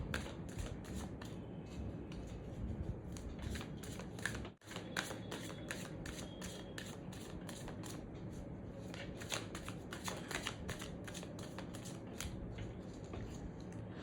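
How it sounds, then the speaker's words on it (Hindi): Tarot-style cards are riffled and shuffled close by in a steady, crisp run of flicks and snaps with a brief pause partway through. "जब तक मैं शफल कर रही हूँ"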